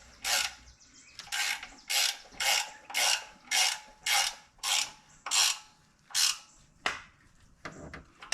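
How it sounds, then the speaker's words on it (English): A ratchet wrench tightens a transmission mount bolt on a 2001 Cadillac Deville with a Northstar engine, about a dozen close, loud bursts of rapid clicking in a steady rhythm, with no one talking. "I'll tighten back up the transmission mount"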